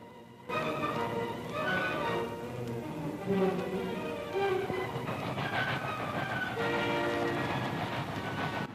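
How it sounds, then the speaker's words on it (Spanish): Trains approaching in an archival wartime scene, with rumbling rail cars and repeated horn or whistle tones rising over a continuous, fairly loud mechanical din. "Se acercaban los últimos trenes."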